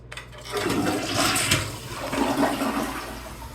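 An OVE OVO toilet flushes with a loud, steady rush of water that swirls and drains for several seconds.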